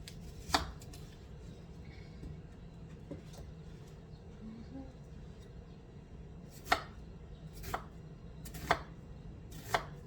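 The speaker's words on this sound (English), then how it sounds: "Chop half an onion up." Half an onion chopped with a knife on a board, a few sharp isolated chops spaced several seconds apart over a low steady background hum, close and clear with no talking.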